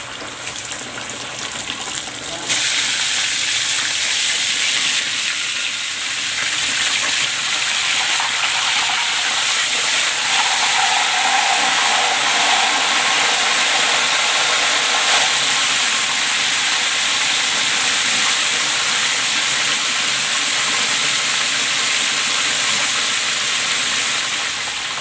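A whole breaded chicken deep frying in hot oil, a loud, steady hiss and bubbling sizzle that surges in after a quiet start and carries on unbroken, close and dominant.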